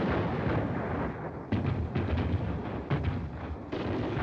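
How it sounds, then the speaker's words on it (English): Blank rounds fired by an army unit under a colonel's command boom repeatedly in heavy, rumbling bursts, one sharp report landing about every second or so over a continuous low roar, with no voices. "The colonel's kind of early with his gunfire."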